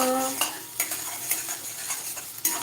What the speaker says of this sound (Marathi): तर बघा हे छान असं मस्त हलवून घ्यायचं